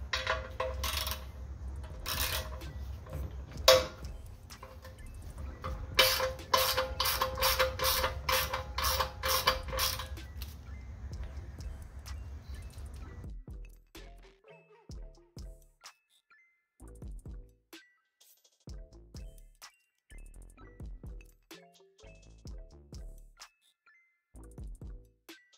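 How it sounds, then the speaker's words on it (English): Metal parts creak and clink while an old exhaust baffle is being removed, first in a dense, busy burst and then as sparse, separate clinks and taps close by, with no speech. "All right, we're gonna start by taking out the old baffle."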